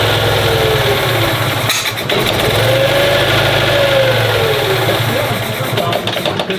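A Citroën Méhari engine with a fault, stumbling and misfiring when revved, turns over and restarts, then runs at a loud, close, slightly uneven idle throughout.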